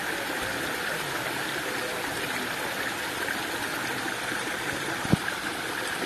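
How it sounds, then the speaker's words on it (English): Pond waterfalls pouring over rocks, with the right side blocked so the water bursts out to the left, giving a continuous steady rush of splashing water close by, with one brief knock partway through. "We choked that entire right side of those waterfalls up so that they would all burst out to the left there"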